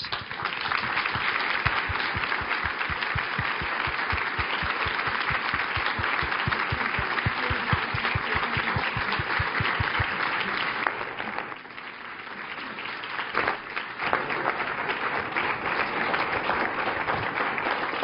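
An audience applauding to welcome panelists at an evening panel discussion, sustained dense clapping from a full room that continues steadily for many seconds before thinning slightly and swelling again.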